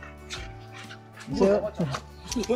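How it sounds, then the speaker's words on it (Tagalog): Several dogs yip and whimper excitedly, a short burst of high, eager cries rising over people talking and calling out nearby. "Natuwa yung mga aso. Nagulat sila."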